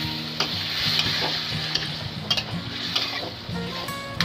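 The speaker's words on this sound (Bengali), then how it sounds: "জল দিয়ে আবারও খুব ভালো করে নেড়ে নেবে।" A spoon stirs fish curry with rohu and potatoes in a pan after water is added to the spices, giving steady scraping strokes over a soft, continuous sizzle, close and unaccompanied by talk.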